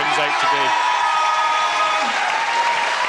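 A crowd at a Commonwealth Games shooting event applauds in a steady, loud wash of clapping, with a commentator's voice speaking over it at the start.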